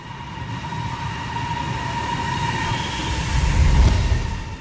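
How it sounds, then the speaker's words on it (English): A Fuxing bullet train travelling at high speed on the Beijing–Shanghai high-speed railway, a steady heavy rumble with a sustained whine that swells louder toward the end as it passes close. "This is the Fuxing bullet train connecting Beijing to Shanghai"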